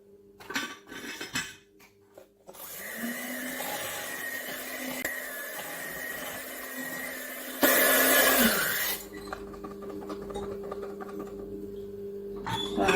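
An electric mixer whirs steadily as it beats fruit cake batter with eggs, running at a constant pitch with a brief louder surge partway through and some clattering against the bowl at the start and end.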